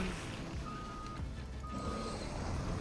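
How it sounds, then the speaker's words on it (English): A car driving in a video game hums with a low, steady engine rumble, joined by a thin tonal beeping that sounds twice over the continuous drone. "Driving in my car."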